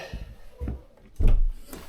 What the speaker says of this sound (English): Let's just shut the door to keep the heat in.